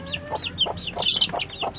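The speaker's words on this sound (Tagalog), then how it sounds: "Ayan, ang mga alagang manok ni tatay." Pet chickens in a rural Philippine yard cluck, including a hen with her chick perched on her, giving a quick series of close, chattering clucks with no voices over them.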